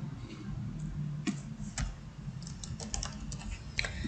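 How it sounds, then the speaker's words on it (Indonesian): Typing on a computer keyboard, with irregular clusters of light close key clicks and taps over a low background hum, with no talk. "Terus ketikkan aja di sini kehadiran ya."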